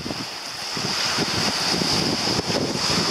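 Steady wind roars across the open shore at Grève Blanche, Carantec, buffeting the microphone, with waves washing in beneath the gusts.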